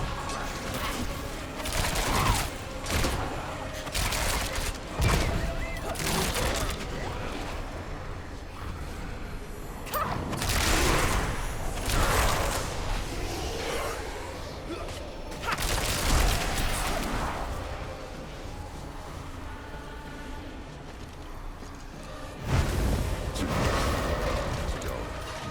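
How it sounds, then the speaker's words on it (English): Chain projectiles burst in a dense Diablo IV fight, with rapid explosive booms, clashing impacts and a layered game soundtrack rising and falling throughout, and a voice speaking intermittently over the action. "Rogue kinda got those chain projectiles that explode enemies"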